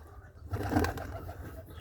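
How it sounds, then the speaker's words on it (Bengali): Soft, low cooing of Bombay pigeon chicks, a short murmuring call rising and fading, close by and fairly quiet. "এই যে একজোড়া বোম্বাই কবুতরের বাচ্চা"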